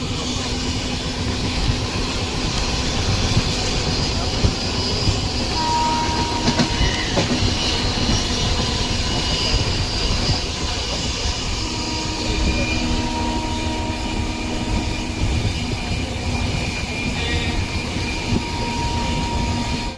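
A passenger train running near Chengalpattu Junction makes a continuous loud rumble with rhythmic wheel clatter and occasional faint squeals, heard close up from the ride and steady for the whole stretch.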